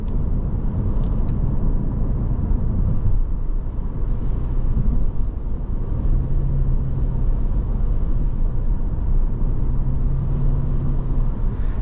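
A 2024 Subaru Impreza RS cruises along a road, with a steady loud rumble of road and engine noise heard from inside the cabin throughout.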